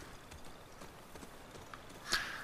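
A horse's hooves walk with soft, faint clip-clop steps in The Last of Us Part II, a steady scattered patter that rises slightly near the end.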